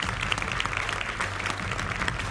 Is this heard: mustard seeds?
no